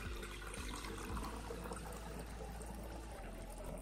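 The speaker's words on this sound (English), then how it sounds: "first I'm gonna pour the water in the container" Water pours steadily into a transparent container at a science sink-or-float demonstration, a soft continuous splashing trickle close by with no talking.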